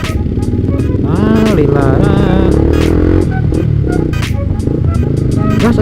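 Motorcycle fitted with an RC aftermarket exhaust revs hard and loud, engine pitch sweeping up and down with sharp throttle blips, while people shout and talk over it close by.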